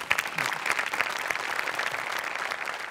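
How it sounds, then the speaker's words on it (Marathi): A studio audience at a Marathi comedy sketch show claps for a performer, giving a dense, even burst of applause that holds steady for a few seconds, loud and close. "तुझ्याकरता स्पेशल टाळ्या"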